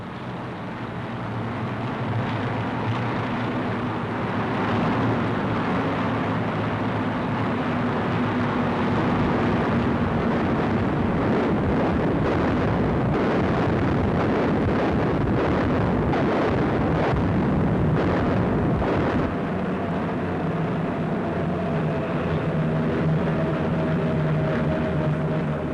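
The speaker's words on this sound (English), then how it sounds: "it continued to strafe and bomb the men who once had it all their own way" Royal Air Force aircraft strafing and bombing in wartime, heard as a continuous loud roar of engines and blasts with rumbling, crackling bursts that swell in the middle and hold steady throughout, with no voices.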